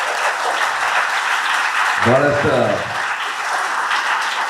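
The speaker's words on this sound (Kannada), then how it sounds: "ಮಕ್ಕಳ ಚಪ್ಪಾಳೆ ಮುಖಾಂತರ ಬಹಳಷ್ಟು ಪ್ರೀತಿ ತೋರಿಸಿದ್ರು" Schoolchildren at a public school birthday celebration applaud in a dense, continuous wash of clapping, with a voice speaking briefly over it.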